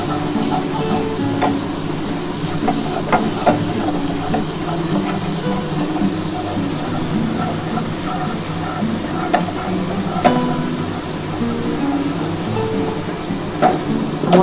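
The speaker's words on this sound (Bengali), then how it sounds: "আমি এবার জল ঢেলে দেবো।" Spiced water poured into a hot pan while cooking a Bengali tilapia curry, with a steady broad sizzle and faint stirring clicks running continuously at close range, no voices.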